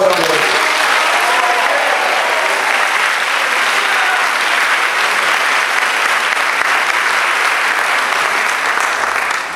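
Congregation applauding during a church sermon, a loud, dense, steady wash of clapping from a large crowd that holds for the whole stretch.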